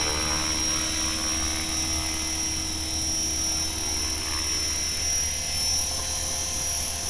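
An LH-450bb radio-controlled helicopter flying, its rotor and motor giving a loud, steady high-pitched whine and buzz that holds evenly throughout with no talking.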